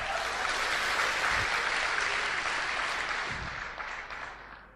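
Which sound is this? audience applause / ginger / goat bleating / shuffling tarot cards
audience applause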